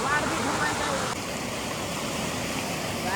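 Floodwater in a village after heavy rain rushing in a steady, loud broadband roar close by, with a person briefly speaking over it.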